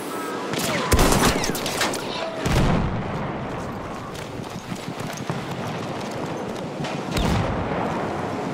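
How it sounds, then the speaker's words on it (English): Battlefield 1 battle on the Zeebrugge map with enemy machine gun fire mixed into dense gunfire, bursts of shots and louder impacts recurring over a constant noisy battlefield din. "Enemy machine gun!"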